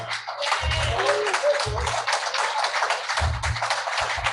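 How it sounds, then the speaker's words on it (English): An audience at a political leadership training claps for Georgia, a continuous crowd of hands with some cheering voices mixed in and low rumbles underneath. "Y'all can clap for Georgia"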